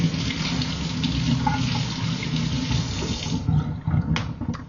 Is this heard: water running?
yes